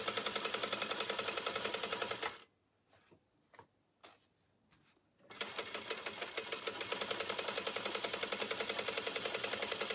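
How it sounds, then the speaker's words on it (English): A sewing machine stitches the seam of a drawstring backpack in rapid, even mechanical ticking, stops for a few seconds with a few scattered clicks, then runs again steadily. "you're going to start at that top right edge, and you're going to sew all the way around"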